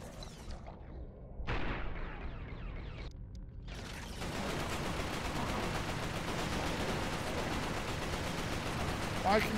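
Gunfire in the PS3 game Resistance: Fall of Man, a dense, continuous rattle of shots that starts after a few brief gaps and stays steady and loud to the end, with faint voices mixed in.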